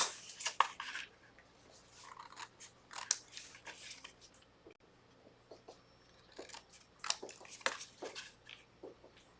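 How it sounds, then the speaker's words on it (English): Scissors snip triangles off paper for a mini travel craft album, giving a series of close, crisp cutting crunches in irregular bursts, quiet and without talk. "now you come in with scissors, and I'm really just going to cut the triangles off."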